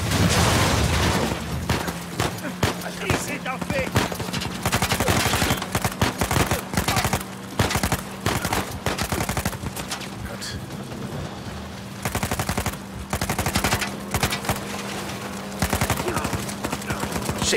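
A street shootout in Uncharted 4: dense, continuous gunfire with rapid bursts and sharp individual shots, loud and close, over a low steady hum, with occasional voices mixed in.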